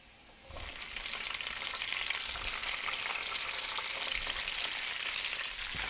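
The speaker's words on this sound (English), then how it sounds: "We're going to let them saute, coat them." Red peppers sauté in garlic oil seasoned with crushed red pepper, making a steady, hissing sizzle that begins abruptly and continues evenly at close range.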